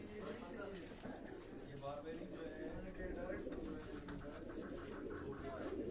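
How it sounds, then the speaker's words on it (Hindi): Gifted pet pigeons kept at a home in Qatar coo softly and repeatedly in a steady murmur, with someone talking over them throughout. "ये उनके घर के ये गिफ्टेड कबूतर हैं"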